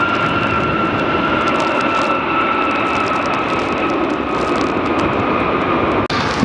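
A JetBlue jet airliner comes in to land at Fort Lauderdale with a loud, close, sustained engine roar and steady whining tones, ending in a brief sharp knock near the end.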